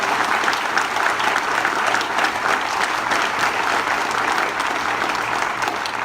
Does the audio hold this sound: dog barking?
no